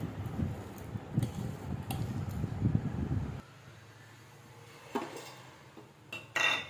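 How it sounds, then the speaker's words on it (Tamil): Batter for banana flower vada being mixed by hand in a bowl, soft wet squelching and clinks for a few seconds, then quieter with faint scattered knocks. "எல்லாம் போட்டாச்சு நல்லா மிக்ஸ் பண்ணிக்கலாம்"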